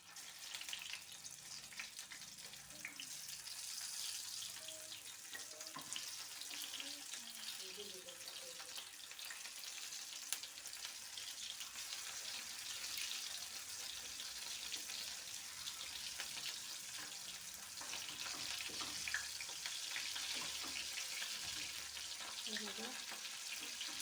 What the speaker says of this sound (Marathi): आता आपण याला तेलामध्ये तळून घेऊया